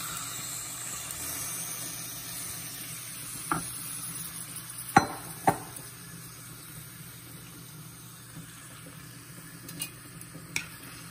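Fish pieces go into a pan of sizzling oil with lemongrass, giving a soft, steady frying hiss broken by a few sharp clinks and scrapes of a utensil, with no one talking.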